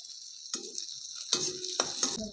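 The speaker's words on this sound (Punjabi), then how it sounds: "ਹੁਣ ਆਪਾਂ ਪਾ ਦਾਂਗੇ ਦੋ ਹਰੀਆਂ ਮਿਰਚਾਂ ਬਰੀਕ ਕੱਟੀਆਂ ਹੋਈਆਂ ਇਹਨੂੰ ਵੀ ਆਪਾਂ ਭੁੰਨ ਲਾਂਗੇ" Finely chopped green chillies fry in a pan for cabbage Manchurian, with soft sizzling and a few spoon scrapes and stirs breaking in, close and fairly quiet, no voices.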